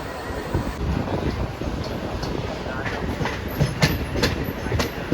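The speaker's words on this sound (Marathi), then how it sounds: "ट्रेन भी निकल गया रे फाटक से" A local train on the Konkan to Mumbai route rolls along the rails with a steady rumble and repeated clickety-clack wheel beats over the joints, heard close from inside the carriage.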